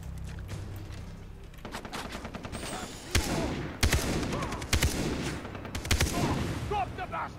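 Gunfire from the shooter game Far Cry 3: a rapid run of sharp shots builds into several loud, heavy bursts, with an echoing battle din between them.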